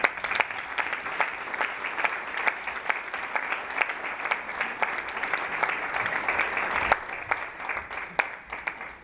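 An audience applauds and cheers steadily to welcome the president of the OPCC onto the stage, a dense wash of clapping that holds at even loudness throughout.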